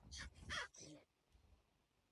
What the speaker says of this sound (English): If this Crow don't shut up,